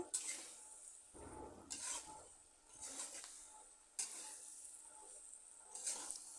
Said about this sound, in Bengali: আদা রসুন বাটা দিয়ে চিম আলু আরও কিছুক্ষণ বেজে নেব